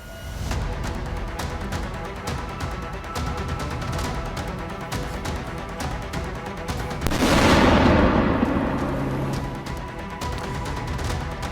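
Explosion blasting apart a military command post in Kharkiv during a Russian army attack: a loud broadband burst swells out of steady clatter and rumble, then decays into a lingering low roar.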